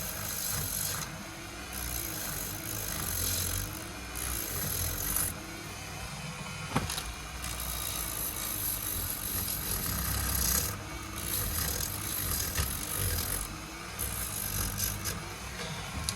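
Steady sanding with a 1 inch sanding disc, a continuous close rasping drone with small fluctuations and a brief click partway through, no voices.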